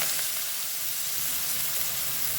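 Mustard seeds and radish leaves sizzling in hot oil in a large kadai, a steady, moderately quiet frying hiss with faint crackle and no talking.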